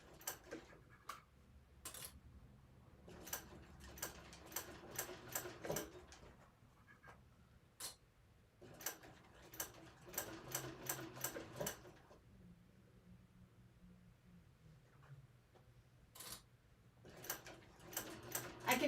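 A sewing machine stitches in quick rapid bursts of ticking needle strokes, stopping and starting repeatedly with short quiet pauses between runs, close and fairly faint.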